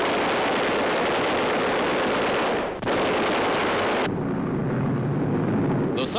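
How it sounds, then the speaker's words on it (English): Continuous loud roaring blasts and rumbling booms, heavy bomb explosions one after another hitting a cargo freighter during a 1943 air attack off New Guinea, with a brief break partway through, harsh and distorted. "the freighter is crippled by the explosions"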